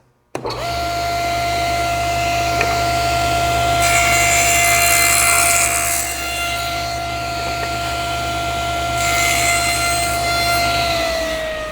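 Power saw running steadily at close range, recutting wood after a fence adjustment of about a thirty-second of an inch, with a constant motor whine and rising rasps as the blade passes through the board, no talking.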